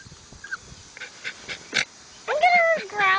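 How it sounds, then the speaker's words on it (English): Small dog Pepper snarls and growls in short bursts during a dogfight, with whimpering and a louder, rising growl near the end; a person talks over the scuffle. "Look at her growling"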